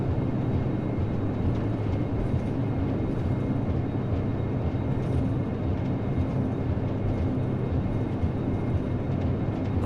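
Simulated Dash 8 (DH8D) airliner on its landing rollout at Reno, a steady, loud broadband rumble of engine and runway noise that holds evenly throughout, with no voices.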